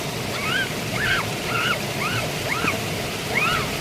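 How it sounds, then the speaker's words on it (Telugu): Floodwater rushing past a house makes a constant broadband roar nearby, with a few faint, high chirping calls scattered over it. "ఒకసారి చూడండి వాటర్ ఎలా వెళ్తున్నాయో చూడండి"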